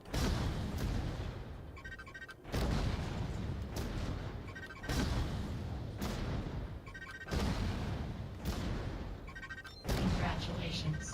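Cannon fire in the mech combat video game Vox Machinae during a cannon training exercise: five heavy booming blasts at a steady interval of about two and a half seconds, each with a long rumbling tail, loud and alone.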